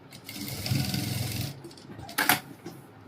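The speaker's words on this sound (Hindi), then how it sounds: "मार्जिन से ये सिलाई से मार लें।" A sewing machine stitches a seam on a ladies' coat dress, a steady close motor whir running for about a second and a half, followed by a short sharp burst of mechanical noise.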